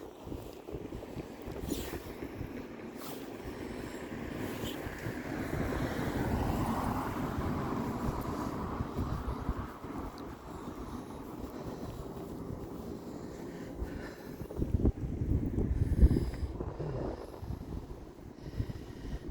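Wind gusts across a seaside promenade in cool weather, a continuous low rumbling roar against the microphone that swells and eases, with a sharper buffet near the end.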